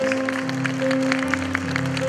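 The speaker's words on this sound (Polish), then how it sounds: "Brawa dla niej, proszę Państwa." Audience applause at a humorous operetta concert, a soft continuous patter of many hands clapping over a sustained held musical tone, moderately distant and steady throughout.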